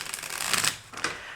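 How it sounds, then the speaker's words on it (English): A deck of tarot cards is shuffled in two quick, crisp bursts of riffling and flicking, close and fairly quiet, with a short pause between them. "I want to shuffle for closure."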